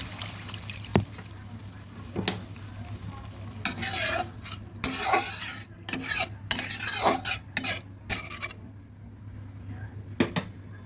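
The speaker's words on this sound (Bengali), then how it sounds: "মশলাটা সুন্দরভাবে ভেজে নিয়েছি এবার দিয়ে দিচ্ছি জল" Water is poured onto fried masala in a pan for Tengra fish curry, setting off loud sizzling and bubbling with repeated scraping stirs of a metal spoon over a steady hum.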